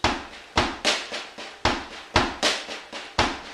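A snare drum plays a triplet shuffle groove with accents on beats 2 and 4, the loud accented hits cracking sharply above softer ghost notes in a steady rhythm.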